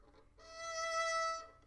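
A violin plays a short sustained melodic phrase from the verse of a song, clear, close and alone after a brief quiet start, with bright harmonics.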